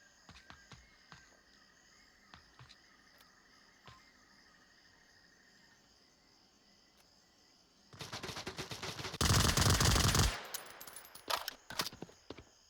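Sustained automatic gunfire in the VR shooter Onward, in a competitive match: faint scattered shots over insect-like ambience, then a loud, dense, continuous burst of rapid fire that tapers into sporadic shots.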